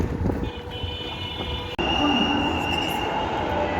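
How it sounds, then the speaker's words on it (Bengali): Metro rail train at a station platform, a continuous loud rumble with a sustained high wheel squeal and tonal whine, a brief sharp break midway, then the steady roar returns. "মেট্রো রেলে উঠবো এখন"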